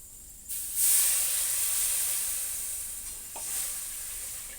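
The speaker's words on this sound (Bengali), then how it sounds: "আমি এবার এটা জল ঢেলে দেব।" Water poured into frying spice paste for a yogurt omelette curry sets off a sudden loud hiss and sizzle that swells, then eases into steady bubbling with a second brief flare near the end.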